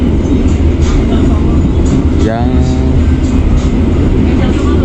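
A local passenger train runs past, rumbling steadily with clattering wheels and broadband noise, loud and close, with a brief squealing tone in the middle.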